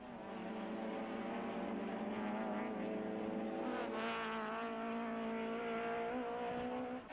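Touring cars race at Zwartkops in the 1994 South African Touring Car Championship, with an Opel Astra leading the pack. Engine whines rise and fall steadily as the cars run past, heard from a distance and fairly faint.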